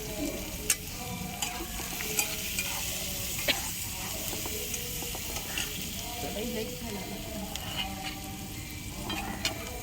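Garlic frying in oil with cumin and mustard seeds over a wood-fired stove crackles and hisses steadily, with frequent small pops and occasional spoon scrapes, fairly faint but constant.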